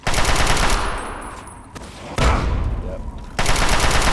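Loud gunfire in Fallout 3, sustained bursts of close-range shots broken by brief pauses, with a short spoken word between bursts.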